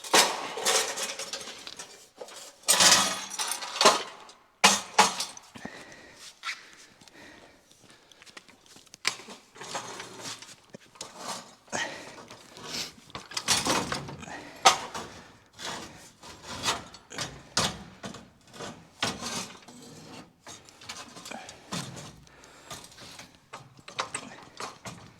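A chrome front bumper for a 1959 Chevrolet Impala being wrestled into place, with irregular metallic clanks, knocks and scraping thuds, some loud and close, spread over a long stretch with short pauses.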